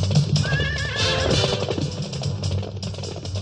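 A horse in a French-dubbed animated Western series whinnies loudly and shrilly, with a wavering neigh up front followed by clopping hooves and dramatic scoring underneath.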